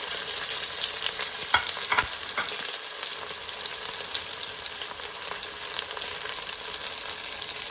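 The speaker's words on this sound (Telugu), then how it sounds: "ఇప్పుడు ఉల్లిపాయలని బాగా వేగనిద్దాం" Onions fry in a pan with a strong, continuous crackling sizzle, broken early by a few sharp scrapes of a stirring spoon, close and steady.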